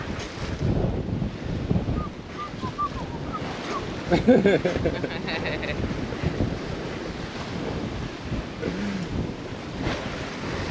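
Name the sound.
ocean waves and wind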